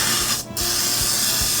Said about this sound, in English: Spray your casserole dish and cooking spray.